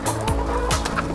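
Chickens on a cherry farm cluck in quick, close bursts during a brief moment of feeding on treats.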